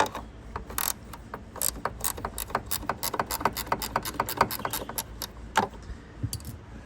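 A hand ratchet removing bolts from a Kia Stinger reflector, with rapid close metallic clicking in uneven bursts and a few short pauses, alone and fairly quiet.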